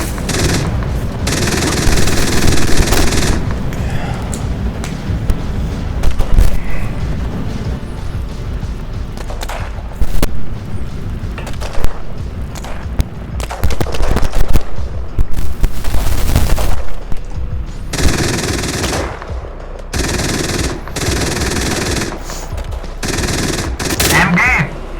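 A German Bundeswehr tank in a video game fires its machine gun in long, loud, rapid bursts. Heavier booms and shots punctuate the fire, and voices are heard beneath it throughout.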